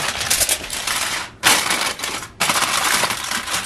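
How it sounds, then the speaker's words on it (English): Aluminum foil pulled and crinkled while cooking chicken thighs, loud crackling and crumpling in bursts with two short pauses. "now I am going to grab some aluminum foil"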